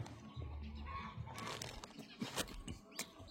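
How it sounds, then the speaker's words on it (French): A distant rooster crows faintly amid quiet outdoor ambience, with some soft clucking and scattered rustling noises nearby. "on entend un coq qui chante"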